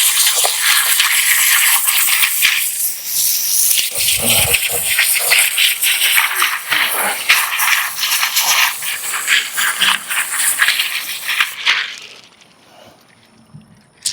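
Water rinses a part being cleaned from an FX6. A loud, steady rush of spray mixed with rattling runs for about twelve seconds, then falls away to near quiet.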